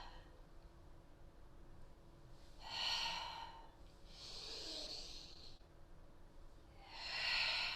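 Deep yoga breathing during a cat-cow flow, three slow, soft breaths heard close and quiet against a calm, near-silent room.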